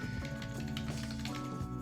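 Quick, even keyboard taps as a name is typed, a short close-up run of key clicks with no talking over them.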